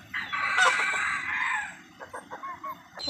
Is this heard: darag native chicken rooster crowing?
yes